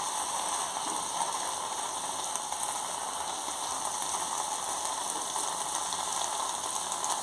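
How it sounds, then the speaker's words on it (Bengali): Vegetables with salt and turmeric sizzle in a pan while being mixed, a dense, steady hiss of frying with faint scraping textures underneath, constant in loudness throughout. "ভালো করে মিশিয়ে নিচ্ছি।"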